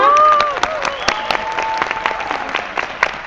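Audience clapping fills the room as a guest speaker is welcomed to the stage, a fairly loud crowd applause with a voice and a fading tone heard over it at the start.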